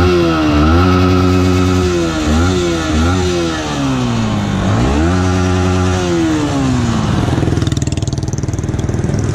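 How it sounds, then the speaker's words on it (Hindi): A Yamaha MT-15 BS6 single-cylinder motorcycle engine revs hard and loud up close, climbing toward its 11,500 RPM redline in repeated sharp blips, then falling back to a rough idle. "And let us rev it now."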